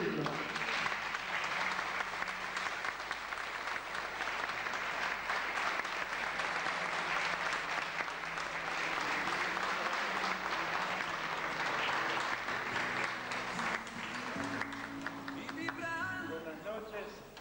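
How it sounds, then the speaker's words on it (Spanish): A crowd applauds steadily for a long stretch, the clapping dense and even, then thins out as a voice begins speaking. "Un aplauso para recibirlo."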